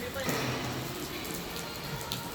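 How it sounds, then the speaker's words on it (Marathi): Rain falls outside during a pilgrimage stop in the mountains, a dense steady patter on a surface with a few sharper drops, under faint voices. "बाहेर बघा पाऊस चालू झालाय"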